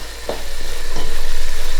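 Beef curry being stirred in a pot, a few soft scrapes over a steady low bubbling simmer, close and fairly loud with no talking.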